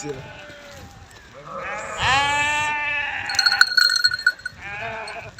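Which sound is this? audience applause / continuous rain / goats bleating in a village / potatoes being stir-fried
goats bleating in a village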